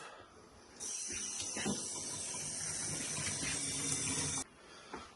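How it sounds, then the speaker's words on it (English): A dirty washing machine part gets rinsed under running water, a steady hissing spray that starts abruptly, runs for several seconds with faint clunks of handling, then cuts off. "So just give this a bit of a rinse off."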